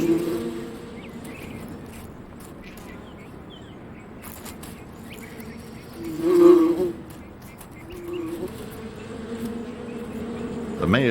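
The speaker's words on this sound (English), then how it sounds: "A new generation of bees, millions of them, erupt from the soil." A swarm of bees erupts from a nest in desert soil, a dense buzzing drone that swells to a louder pass midway before settling back to a steady hum.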